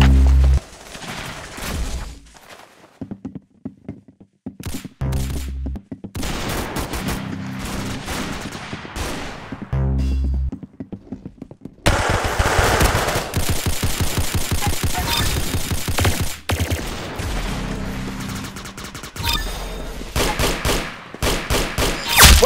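Gunfire from Roblox Arsenal rattles in rapid bursts and single shots, loud and close, with brief pauses between volleys and a denser stretch of shooting in the second half.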